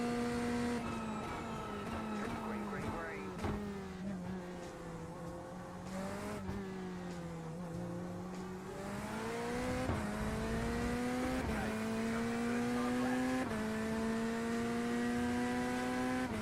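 A race car in the iRacing simulator at Spa holds a steady droning engine note, rising and dropping in pitch through gear changes and corners, with occasional tire squeal, constant and fairly loud with no talking.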